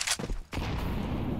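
Shotgun fire in the game Counter-Strike: Global Offensive, a sharp close blast followed by a short burst of shots and a sustained rumbling tail.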